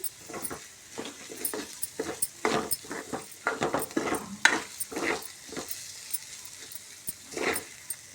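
Moong dal frying in oil in a pan, stirred at intervals with a utensil: uneven bursts of clinking and scraping over a low sizzle, close by and fairly quiet.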